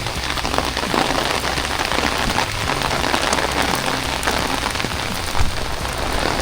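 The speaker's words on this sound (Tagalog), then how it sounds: "Umulan na naman guys, grabe ang lakas." Heavy rain pours down in Pasig City near Marikina, a dense, loud, continuous hiss and patter on surfaces with no break.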